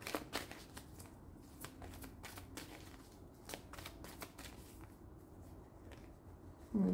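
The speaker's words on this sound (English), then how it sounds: "I'm going to get this card, the Psychic Tarot deck from the John Holland." A Psychic Tarot deck of cards being shuffled by hand, a quick run of crisp riffling snaps and soft slides in irregular bursts, close and fairly quiet, with no talking.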